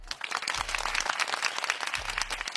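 Applause from an Ivorian audience, a dense steady patter of many hands that runs throughout, with low thuds underneath.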